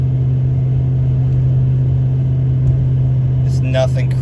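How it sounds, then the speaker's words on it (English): A steady low exhaust drone from a truck with Cherry Bomb Salute exhaust hums continuously beneath road rumble while cruising at highway speed, with a brief voice near the end. "You can hear the exhaust drone a little bit here."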